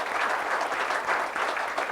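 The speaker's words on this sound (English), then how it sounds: "if I could get a round of applause for that as well" At an economic trends conference hosted by Deloitte, a room of attendees gives a dense, continuous round of applause, the many claps blending into a steady wash.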